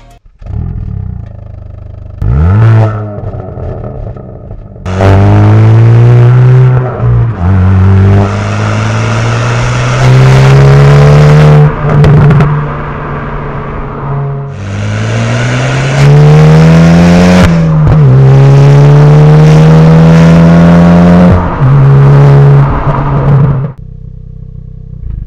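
A Hyundai i20N Performance accelerates hard on a drive, loud engine revving up through several gears with rising pitch, brief drops at each shift, then a fade at the end.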